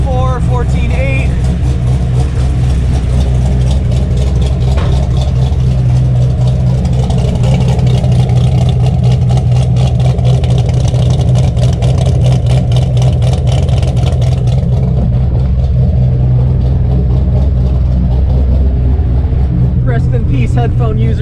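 A 7.0L LSx V8 swapped into a Mazda RX-7, first start after months idle, idles loud and close with a steady deep rumble, a couple of gentle revs swelling through the middle, and someone talking over it.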